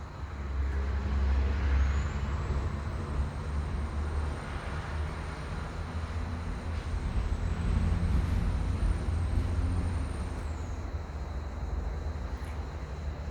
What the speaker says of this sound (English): I'm sorry about the trucks going by